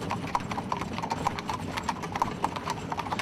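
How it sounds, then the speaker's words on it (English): A horse trots fast on a hard road pulling a horse-drawn wagon, giving a close, regular clip-clop beat of hooves over wheel and road noise. "So I got her into a good fast trot."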